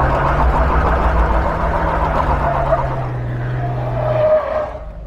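A Jeep Wrangler with a 4.6 stroker engine does a burnout: loud, sustained engine roar with a high tire squeal, holding for about four seconds before the revs drop away.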